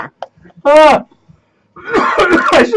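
A person coughs and clears their throat in a short burst, then breaks into a longer rough fit of coughing mixed with laughter, close and loud, with quiet gaps between.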